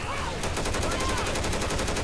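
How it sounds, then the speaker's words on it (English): Rapid pistol fire in Left 4 Dead 2, a fast even string of about a dozen loud shots over two seconds, with game noise and faint voices beneath. "Feel the Trump pistol"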